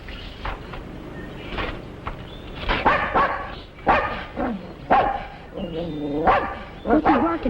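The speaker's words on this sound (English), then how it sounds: "What's he barking at?" A dog barks repeatedly in an outdoor scene, sharp mid-distance barks and yips mixed with whimpering, while people talk over it.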